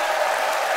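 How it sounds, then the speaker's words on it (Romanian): Stormy audience applause for a special guest on a comedy stage, a brief burst of dense clapping that sounds loud and continuous from start to finish. "aplauze furtunoase pentru invitatul special de astăzi"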